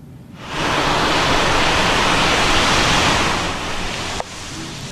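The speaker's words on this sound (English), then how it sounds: "water from fields and ditches was flowing across the road" Floodwater from fields and ditches rushes across a highway in rural Minnesota, a broad steady roaring wash of flowing water that swells in and holds loud and constant.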